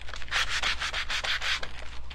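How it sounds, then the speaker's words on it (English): Hand sanding a painted craft pumpkin gives a steady run of rough, rhythmic scraping strokes, about a dozen quick back-and-forth rubs, close and fairly loud, with no talking. "Just sanding it off a little bit, just to make it a little bit more rustic."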